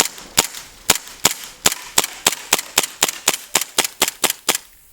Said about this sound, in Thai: ไล่ยิงตัวเป้าที่เราเอามาตั้งไว้นะคะ